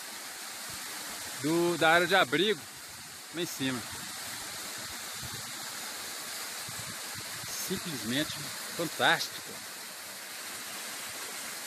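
A waterfall near Pico das Agulhas Negras in Itatiaia, fed by mountain runoff, gives off a steady broadband rush throughout while someone speaks in short bursts over it.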